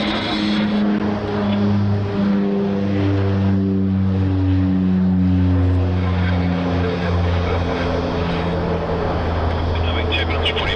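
An airliner takes off from runway 16 right at Sydney Airport, a loud sustained engine roar with steady low drones and whine holding throughout, under radio chatter from air traffic control.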